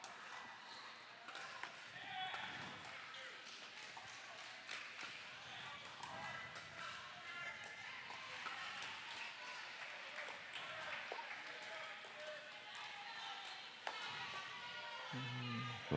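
Spectators at a Cincinnati National Pickleball League center court match keep up soft, continuous applause from a distance, with a few sharp ball and paddle knocks and commentators talking over it.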